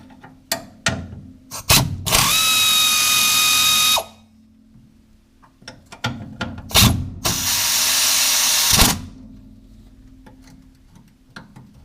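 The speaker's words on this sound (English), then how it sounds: "I'm going to use my air ratchet and blow this joint out of there" Air ratchet spinning bolts loose on the upper ball joint of a 1968 Ford Mustang, two sustained whirring bursts of about two and four seconds, loud and close, separated by clanks and tool handling.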